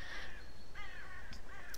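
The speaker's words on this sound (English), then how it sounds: "I can still hear the damn crow in the background" A crow caws repeatedly in a video game's background ambience, three harsh calls at a steady pace, moderately loud against a soft outdoor bed.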